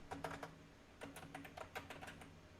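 Quiet keyboard typing in Android Studio, soft clustered keystrokes in short bursts with brief pauses, close and faint over a low steady hum.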